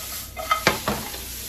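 Peppers and onions sauté in a pan, a soft sizzle under a few quick stirring scrapes and utensil knocks clustered in the middle of the brief moment, close and moderate in level.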